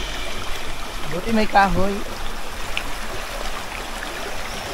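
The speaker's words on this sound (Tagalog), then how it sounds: "isa ito sa mga ilog na tatawarin nyo papunta doon sa falls" A shallow river that must be crossed on foot on the way to a waterfall in Baleno, Masbate, Philippines, flowing with a steady soft rush throughout while a person speaks briefly over it.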